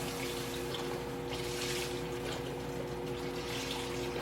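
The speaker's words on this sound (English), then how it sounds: "Put my beef broth in." Beef broth pouring into a cooking pot for oxtail soup, a steady close liquid stream that runs unbroken from start to finish with no talk.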